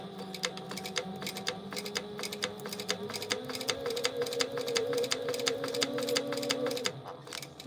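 A sewing machine running a straight quarter-inch seam, a fast even stitching patter up close that shifts pitch midway and stops near the end.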